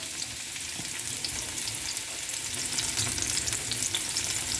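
Chopped red pepper fries in a hot paella pan, giving a loud, dense, continuous crackling sizzle close up, with faint stirring underneath and no talking.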